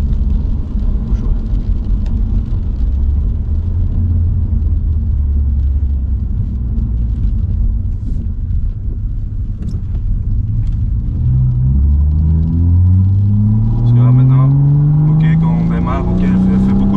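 A BMW M240i with an Akrapovic exhaust rumbles deeply at idle, then revs up with a rising growl from the loud exhaust close by.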